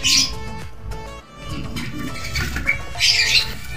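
A pigeon flaps its wings in a nest, with bursts of wing beats at the start and near the end and scattered chirps and squawks in between, loud and close with no talking.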